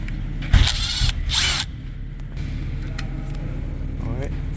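A power tool breaks free a T27 bolt on a 2015-2022 Chevy Colorado during ABS sensor replacement, giving short loud bursts of whirring near the start, then a lower mechanical hum; no one talks.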